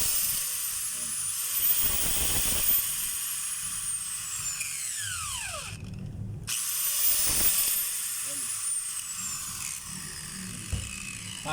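DeWalt DW8100S 4-inch angle grinder running noisily with a fault, a high whining motor with sweeping pitch changes, brief spin-downs and restarts, fairly faint and close.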